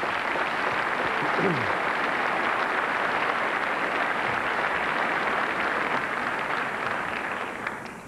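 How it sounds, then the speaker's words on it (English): Sustained applause from an awards-ceremony audience at the 1996 NASCAR Winston Cup Series banquet, a dense, steady wash of clapping that holds evenly for several seconds before easing off slightly at the end. "let's give him another round of applause."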